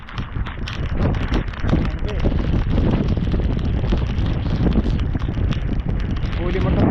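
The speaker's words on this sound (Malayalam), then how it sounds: "കാറ്റ് വരുന്നുണ്ട്." Strong wind blows near a coastal breakwater, with steady gusting and microphone buffeting under nearby talking throughout.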